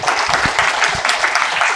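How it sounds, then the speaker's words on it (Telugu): An audience at a meditation session bursts into loud, dense applause. Many hands clap rapidly and evenly through the whole moment, close and strong, with no talking. "ఒక్కసారి మాస్టర్స్ గట్టిగా చప్పట్లు కొట్టండి"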